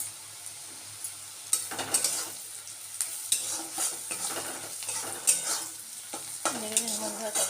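Steady sizzling of food frying in a pan with Maggi masala, with repeated scraping and stirring clatter from a utensil throughout, fairly close.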